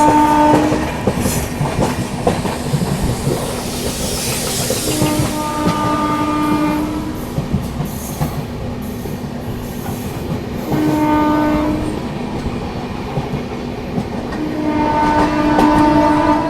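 Rajdhani Express train with banker locomotives running in fog: a steady loud rumble and clatter of wheels on rail, with repeated horn blasts sounding in several bursts across the stretch.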